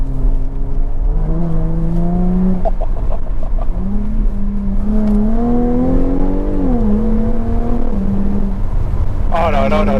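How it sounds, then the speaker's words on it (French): Close by, the 340 hp Jaguar F-Type on its original exhaust blips its throttle several times, each rev climbing and falling over a steady idle, with a short burst of talk near the end. "la sonorité, c'est l'échappement d'origine, ça?"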